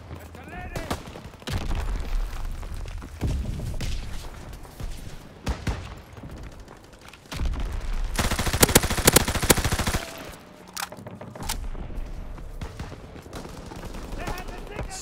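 Artillery mortar rounds firing in a video game, a long sustained barrage of rapid gunfire and blasts, densest midway, with a game voice announcing orders over the shooting.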